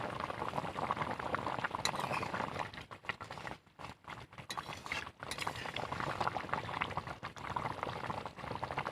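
Fish curry with Malabar spinach bubbling in a pot, a steady close boil with light clinks and stirring, dipping briefly midway before resuming, no talk.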